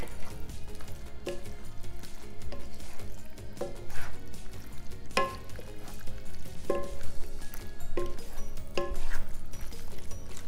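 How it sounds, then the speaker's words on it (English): Soft scraping and occasional clinks of a spoon stirring creamy chicken and chard mac with fresh basil in a pan, irregular strokes over a low, steady background. "Give it one last stir."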